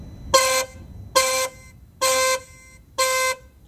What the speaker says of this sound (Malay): cuba kau dengar horn kereta aku sekarang